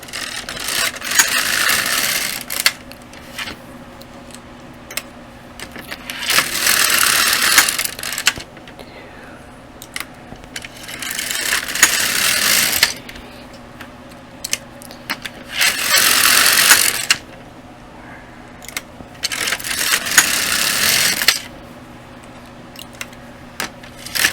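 Six rows are knitted on an LK 150 knitting machine, the carriage making a repeated rasping, clattering sweep every few seconds, each pass a loud burst separated by quieter pauses with small clicks.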